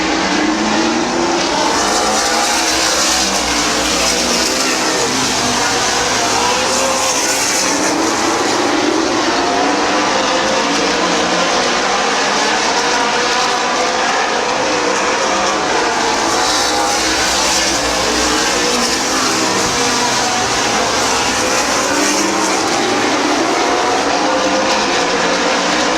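A pack of race cars roars continuously at Midvale Speedway as they take the green flag, a dense, loud wall of engine noise lasting throughout with no voices.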